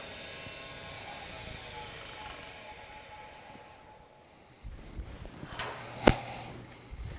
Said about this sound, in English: Shut off the grinder, pull this back.